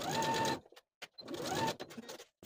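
A sewing machine stitches clear elastic onto the shoulder seams of a knit dress bodice, two short whirring bursts separated by a brief pause, close and quiet.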